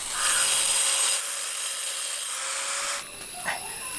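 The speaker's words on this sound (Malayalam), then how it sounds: "നമുക്ക് ആ വരച്ചു കൊടുത്തിട്ടുള്ള ലൈനിൽ കൂടെ ഇങ്ങനെ കട്ട് ചെയ്തെടുക്കാം" A carved stone block is cut along a drawn line with a tool, making a steady, close abrasive grinding that runs loud and continuous for about three seconds, then thins out near the end.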